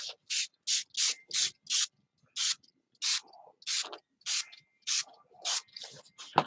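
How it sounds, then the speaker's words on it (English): A little spray bottle sends out water in a series of sharp, close spritzes, spaced irregularly with short gaps between bursts and no voices. "I'm going to spritz the whole thing."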